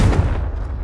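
A Confringo fire spell explodes in Hogwarts Legacy, a single heavy booming burst with a rumbling low tail that fills the brief moment, loud and close.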